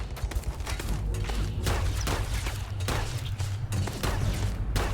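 Sustained rapid gunfire from a weapon in the space game Starfield, dense repeated shots running steadily throughout at moderate loudness with no talk over it.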